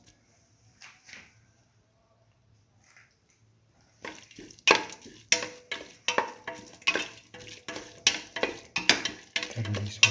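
Split mung beans and tomatoes are sautéed together in a pot for a stew, starting near-silent, then a run of rhythmic scraping and stirring strokes with a light sizzle, about one stroke per half second.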